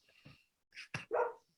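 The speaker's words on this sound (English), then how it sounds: "It was my dogs." Dogs barking indoors, a few short, fairly close barks in quick succession with brief gaps between them.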